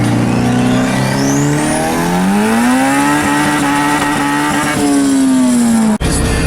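A turbocharged Honda tuned with a Hondata S300 revs hard and climbs in pitch as it accelerates, tires spinning, close and loud for several seconds before ending in a sharp cut, with no talk.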